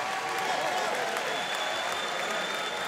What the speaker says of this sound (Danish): Klapsalver op mod Keller i ringen, og klapsalver tilbage til publikum